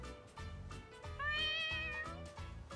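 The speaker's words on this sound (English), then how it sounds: "Oh, there's a cat!" A cat meows in the Yakuza: Like a Dragon video game, a clear, rising, drawn-out call heard near and up front over a steady bed of in-game background sound.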